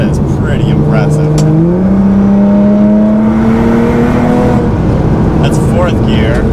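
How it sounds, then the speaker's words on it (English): A Nissan GT-R fitted with an upgraded race front-mount intercooler pulls hard in fifth gear, its engine note climbing steadily in pitch, loud and close from inside the car, while a person talks over it. "in fifth gear, the car takes off like a rocket"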